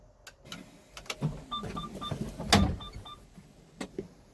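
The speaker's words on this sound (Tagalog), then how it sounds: "Isang pindot muna yan para mabubuksan lang ang pinto." A bus door opens after a button press, with a mechanical whir, a hiss and repeated electronic beeps, close up and fairly quiet, with no talk.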